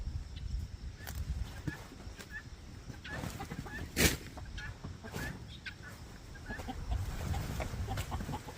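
Backyard chickens clucking softly as they are fed garden scraps, scattered quiet clucks and a few sharper calls over a faint rustling outdoor background with some footsteps.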